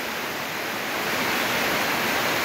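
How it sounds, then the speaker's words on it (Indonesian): Heavy rain pours down steadily in a dense, even roar of hiss, loud and continuous with no voices, swelling slightly louder partway through. "Hujannya deras sekali."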